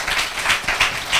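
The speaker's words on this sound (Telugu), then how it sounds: "గట్టిగా చప్పట్లు కొట్టండి." A church congregation bursts into applause at a Telugu sermon, a steady wash of hand claps rising and falling in waves, moderately loud, with no voices over it.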